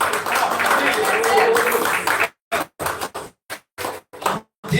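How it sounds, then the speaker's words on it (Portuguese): A church congregation bursts into loud, dense applause that holds for about two seconds, then breaks into separate clipped bursts with silent gaps between them, and a voice comes through among them. "Aplaude a Jesus bem fortemente."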